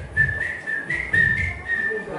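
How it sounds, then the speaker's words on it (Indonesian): A person whistles in a bathroom, a steady tune carried in repeated phrases with faint low background noise underneath. "Kita masuk kamar mandi, siul-siul."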